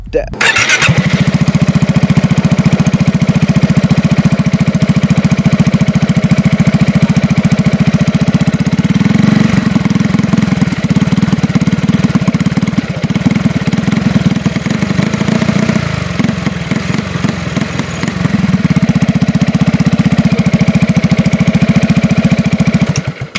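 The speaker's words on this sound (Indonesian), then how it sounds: "Jadi menggunakan knalpot Akrapovic yang punyaan BMW" A Yamaha XMAX scooter engine idles steadily through a BMW Akrapovic exhaust with a deep, throaty burble, loud and close, holding a constant rumble throughout with slight variations.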